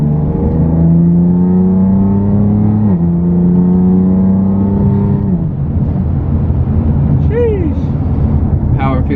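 BMW F80 M3 with a catless exhaust, single mid pipe and open valves, accelerating hard through gears, a loud, close harmonic engine note rising in pitch, dropping at shifts, then a brief voice near the end.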